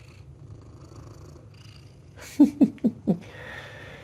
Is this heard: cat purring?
yes